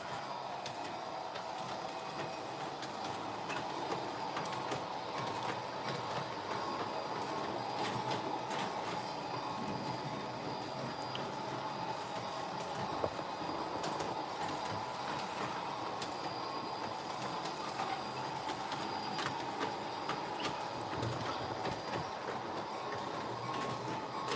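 An HO-scale model train runs around a layout with a faint, steady electric whir and light rail clatter, a continuous low hum that stays even throughout.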